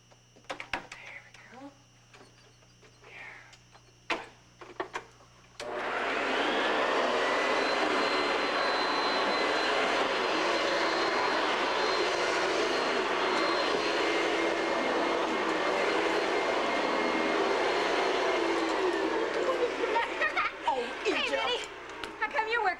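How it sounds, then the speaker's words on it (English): A vacuum cleaner starts partway through and runs loud and steady with a whining drone, after a quiet stretch of voices and clatter, ending with talk over its tail. "And I'll finish the vacuuming."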